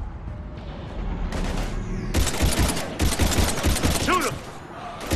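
Gunfire in the Mass Effect 3 video game: bursts of rapid automatic shots in a sustained volley, loud and close, with voices shouting over the shooting.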